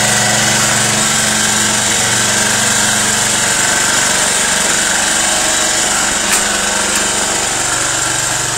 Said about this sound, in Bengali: মেশিনটি যেদিক দিয়ে আপনারা চালিয়ে নিয়ে যাবেন সেইখানেরই ঘাস একদম সুন্দর সমানভাবে সাইজ